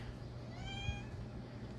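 A pet cat named Delphine gives one drawn-out rising meow, moderately close, over a low steady background hum, with no one talking.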